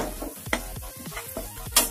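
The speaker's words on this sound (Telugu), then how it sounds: "అల్లం వెల్లుల్లి పేస్ట్, ఇది లైట్గా ఫ్రై అయింది" Ginger garlic paste frying lightly in a pan for tomato mint rice, a soft sizzle broken by a steady run of scraping stirs and a few sharper clinks against the pan.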